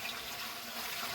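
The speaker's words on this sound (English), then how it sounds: "I'm adding 3 quarts of tap water" Tap water pours steadily into a canner, a continuous hissing splash at moderate loudness with no voices over it.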